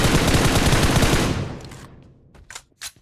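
Rapid automatic gunfire in the shooter game PUBG Mobile, a dense loud burst that stops abruptly and fades into a sparse tail, followed by a couple of quick sharp clicks near the end.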